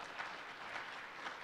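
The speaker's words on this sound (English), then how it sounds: "you deserve a hearty applause" Faint, distant applause from the audience at the Nairobi Health Scientific Conference, a brief, even patter of many hands with no voices over it.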